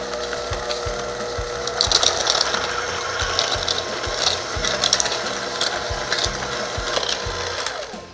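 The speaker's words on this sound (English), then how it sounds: "I'm just gonna use a handheld mixer, and we're gonna cream this until it's really light and fluffy" A handheld electric mixer creams a sugar mixture for lemon raspberry cupcakes, a steady mechanical whirr with ratcheting, clicking texture and occasional louder scraping bursts against the bowl, running continuously and close up.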